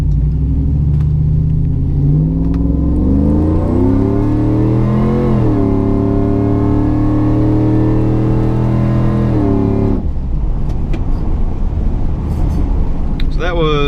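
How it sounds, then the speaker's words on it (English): Supercharged Chevrolet Tahoe pulling away at half throttle, engine note climbing steadily through the gears with a sustained loud rumble, one upshift around midway and a drop after, with a voice speaking over it. "I'll just give a little half throttle getting up to speed going down the road here."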